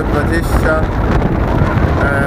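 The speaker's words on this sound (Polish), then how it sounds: "A wiatr jest dość silny dzisiaj." Loud, steady wind buffeting the microphone while cycling uphill in Switzerland, rumbling and roaring throughout with faint sounds of movement underneath.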